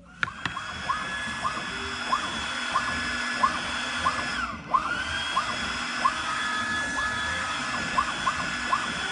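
A printing machine lays a white coat over blue for a company logo on an iPhone case, a steady mechanical hum broken by evenly spaced, repeating sweeps that continue throughout.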